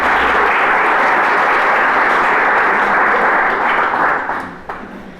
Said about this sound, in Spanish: Recibamos con un fuerte aplauso a Andréane Blackwood